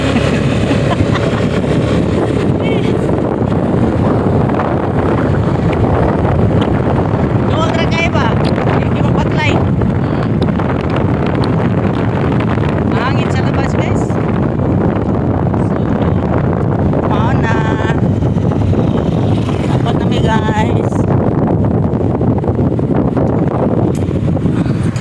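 Steady rushing wind noise buffets the microphone throughout while riding in an open multicab vehicle, with a low rumble beneath and brief faint sounds cutting through now and then.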